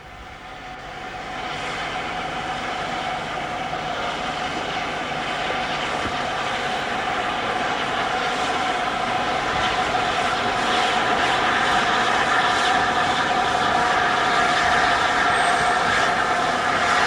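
A steam locomotive hauling a reasonably heavy train at a North Yorkshire Moors gala, a steady loud rumbling roar of engine and rolling wagons that builds slightly as it nears, with no talk.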